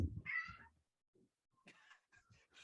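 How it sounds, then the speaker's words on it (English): A cat meows a couple of times, close and quiet, with short higher-pitched cries separated by brief pauses. "Yeah, and the cat's just there"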